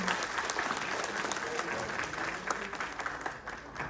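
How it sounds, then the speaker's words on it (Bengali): An indoor audience of parents at a children's award ceremony claps loudly and steadily, a dense continuous round of applause. "আমরা বাবা মারা সবাই সবার বাচ্চাদের জন্য জোরে করতালি দিতে চাই"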